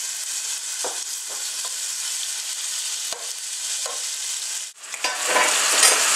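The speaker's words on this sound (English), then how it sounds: "Now that the oil is hot, we're gonna go ahead and add the lamb." Lamb pieces dropped into hot oil in a pan, sizzling steadily with a few stirring scrapes, and the frying flares up louder near the end.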